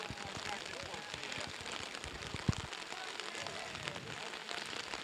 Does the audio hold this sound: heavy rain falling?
yes